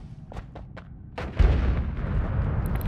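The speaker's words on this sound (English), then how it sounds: "You can shoot like bombs." Bomb blasts from a magic wand in the pixel-art game Noita: a few soft thumps, then a louder, close boom that rolls into a sustained rumbling crackle.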